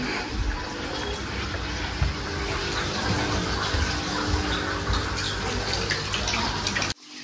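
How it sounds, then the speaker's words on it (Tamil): Water rushes steadily from a home fish tank setup, a continuous close splashing flow with no talk, stopping abruptly at the end. "இப்போ தண்ணி எடுத்துகிட்ருக்கோம்."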